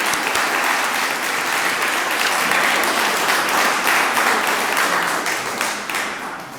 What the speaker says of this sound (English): if we wanted to just collectively give a round of applause to everybody who shared tonight and shared their stories